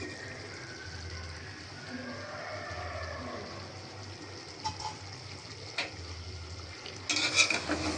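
Beef korma in a pot, Dhaka style, stirred and cooked down with a low steady sizzle and bubbling, scraping stir sounds now and then, and a brighter clatter near the end.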